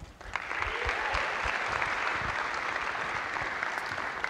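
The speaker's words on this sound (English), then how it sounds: "We want to give you a big thank you and round of applause." A large crowd at the Rudys awards evening breaks into sustained applause, swelling quickly after a few early claps and holding steady and full.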